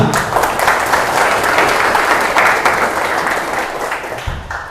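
Students at a youth business seminar at SMK Teknika Cisaat break into loud, dense applause, a steady wash of many clapping hands that carries on for several seconds before tapering slightly.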